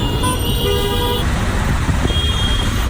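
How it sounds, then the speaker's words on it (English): Gridlocked street traffic in Bangladesh, dense and loud, with repeated car horns honking over a constant roar of engines. "It's really gridlocked out here."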